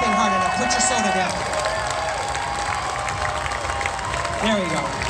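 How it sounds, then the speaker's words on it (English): Crowd at a Comic Con panel claps steadily and loudly throughout, with cheering voices and chatter mixed in over the dense applause. "You're not clapping hard enough."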